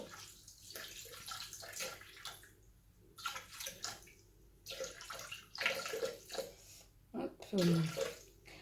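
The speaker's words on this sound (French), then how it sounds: "Je viens verser 400 g d'eau." Water poured into a Thermomix bowl on a kitchen scale for harira soup, a steady splashing stream rising and falling in pitch, with quiet clatter and a few low voice sounds.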